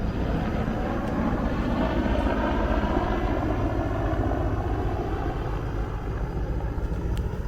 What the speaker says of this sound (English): I can hear it's a Mi-17, a Soviet-Russian helicopter.